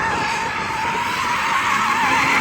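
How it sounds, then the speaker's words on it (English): BMW M240i, four-wheel drive with rear bias, drifting with tires skidding: a loud, close, sustained squeal over a steady engine roar for the full stretch, without speech. "see if you can drift that, because that's 4-wheel drive, although it is rear drive bias"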